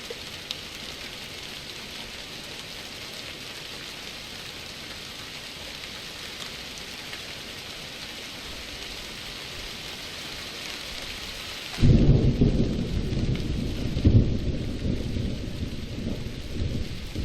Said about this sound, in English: Man, all this rain.